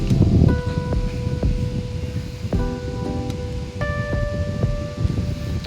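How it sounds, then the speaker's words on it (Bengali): A rechargeable charger fan blows air in a steady, close whooshing rush with soft fluttering, while faint sustained tones sound in the background. "ফ্যানের বাতাসটা দেখুন, বাতাসের শব্দটা খুবই ভালো এবং বাতাসটা খুবই স্মুথ।"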